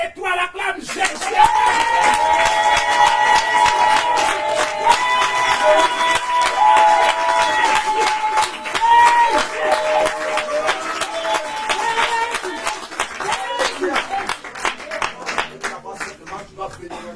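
A church congregation at a French-language prayer and deliverance service claps and cheers in acclaim of Jesus, loud rhythmic applause mixed with shouting voices and sustained tones, continuing for the whole stretch.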